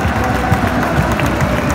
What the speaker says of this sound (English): Paradise is giving them a massive applause